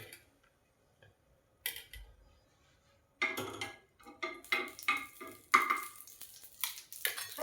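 Ghee going into an appe pan where banana appe are cooking, with faint sizzling and sharp metallic clinks and taps of a spoon on the pan, in sparse bursts after a quiet opening.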